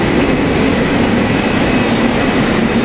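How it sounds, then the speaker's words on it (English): SEPTA train 450, made up of railcars 111 and 112 running toward Jenkintown, fills the space with a loud, unbroken rumble and rail roar from close by. "This is train 450, I think, and it is, and it's Railcars 111 and 112 again"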